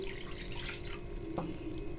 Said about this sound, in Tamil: கொஞ்சம் தாராளமாக தண்ணி ஊற்றுங்க